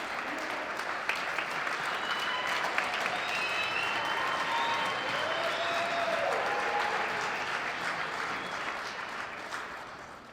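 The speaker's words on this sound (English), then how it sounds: "give it up to Miss Asia again" Sustained audience applause fills a hall at a Black History Month celebration, a dense even wash of many hands clapping, with faint crowd voices mixed in, holding steady for about ten seconds before easing slightly.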